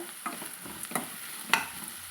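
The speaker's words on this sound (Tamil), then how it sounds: "இதை ஒரு ஒரு நிமிஷம் நம்ம நல்லா வதக்கி விட்டுக்கலாங்க மீடியம் ஃப்ளேம்லேயே வச்சுக்கோங்க" Soft sizzle of shallots and ridge gourd sautéing on a medium flame, with a few light stirring scrapes and taps over a steady frying hiss, close and fairly quiet.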